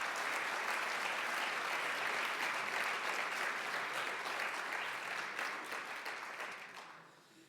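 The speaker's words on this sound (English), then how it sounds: "Can we get another round of applause for our finalists?" An audience at a teacher appreciation awards ceremony gives sustained applause for the finalists, a dense, steady roar of many hands clapping that holds strong before gradually fading out near the end.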